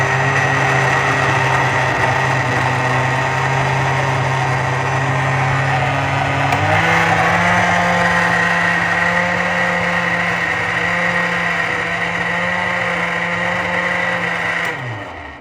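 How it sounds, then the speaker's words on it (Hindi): An electric grinder whirs steadily and loudly close by as it grinds tomatoes, green chillies and garlic, its motor pitch shifting slightly midway before winding down at the end, with no talk. "टमाटर हरी मिर्चें और लहसुन हर एक चीज़ रेडी है तो अभी ग्राइंड कर लेंगे इसको"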